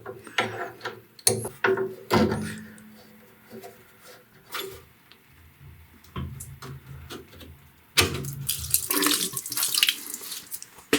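Water splashes and gurgles in bursts from a copper pipe being drained during utility sink installation, with clanks of metal and handling noises, close by, ending in a rush of flowing water.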